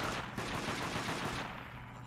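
Gunfire during a Deathgarden match, a rapid burst of automatic shots heard at a middling distance in a short stretch with no talking.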